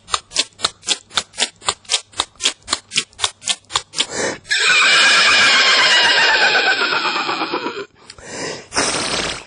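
A mimicry artist imitates a horse with his voice: first a fast run of sharp rhythmic clip-clop bursts like hooves, then a loud, drawn-out whinny with a falling, quavering tail, followed by a brief closing burst.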